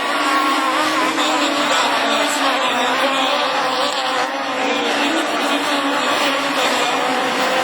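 Super 1600 rallycross cars on the final lap of a French championship race at Châteauroux, engines screaming loud and continuous with a faint commentator voice underneath.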